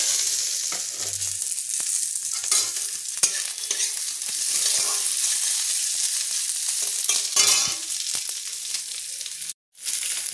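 Onion with grated ginger and green chilli being stir-fried in a pan, giving a steady, close sizzle with continuous scraping of the spatula throughout and a brief drop-out just before the end.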